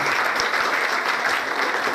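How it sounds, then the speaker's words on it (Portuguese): An audience at a school parents' event breaks into steady applause that fills the short stretch at an even, loud level. "Palmas para a Júlia."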